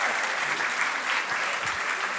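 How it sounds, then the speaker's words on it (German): A studio audience at a German sports comedy show breaks into dense, steady applause, a close, even wash of clapping that fills the whole stretch. "Ja, dann kommt nach vorne, Applaus für dich."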